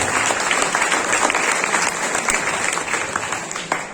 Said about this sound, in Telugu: ఒకసారి మా గ్రేట్ అప్లైనర్ ఒకసారి గ్రేట్ గా క్లాప్స్